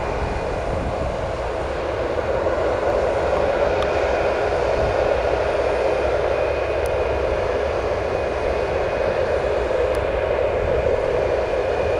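Boeing 737 jet at O'Hare airport, a steady, constant engine roar with a faint tonal whine on top, loud and unbroken throughout.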